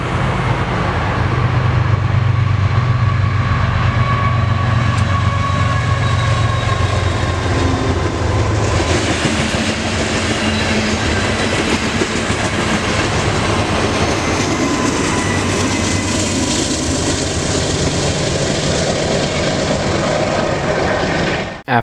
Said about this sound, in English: a hopper train would show up with a solid H2 set on the front and the back